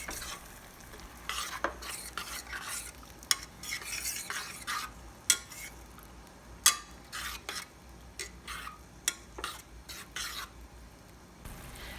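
Tomatoes cooking in a pan for spaghetti aglio e olio, mashed with a potato masher: soft sizzling under repeated wet squelches and taps of metal against the pan in an irregular rhythm, close but fairly quiet.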